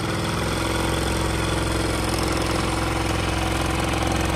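A vehicle engine idles steadily and close by, a constant low rumble with an even mechanical throb that holds without a break from start to finish.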